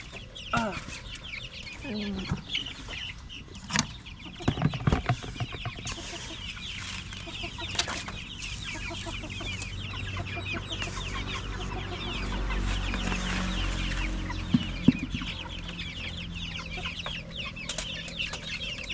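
Several chickens cluck close by in irregular bursts in a backyard farm, with a rooster's call and farmyard clatter mixed in, fairly loud throughout.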